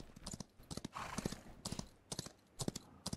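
Rhythmic clip-clop of a horse's hooves in a video game, several quick hoofbeat bursts in an uneven gallop, fairly close and clear with no talking over them.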